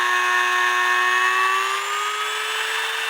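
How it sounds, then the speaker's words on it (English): A Dremel rotary tool spins the escapement wheel of a 1950s Poppo musical cuckoo clock, giving a loud, steady high whine whose pitch slowly drifts throughout. "I hold it between my fingers, turn the Dremel on, find the right spot,"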